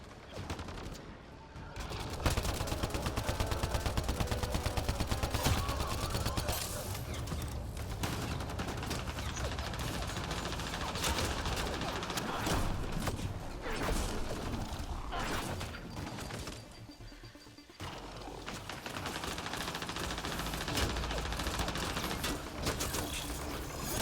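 A video game battle keeps up sustained gunfire, with dense rapid bursts and mechanical clatter continuing almost nonstop at loud, even levels apart from a couple of brief lulls.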